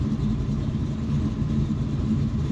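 A 1970 Chevrolet Chevelle SS fitted with a 632-cubic-inch Merlin big-block V8 idles at a stoplight, a deep steady rumble with a low throbbing lope, moderately loud and alone.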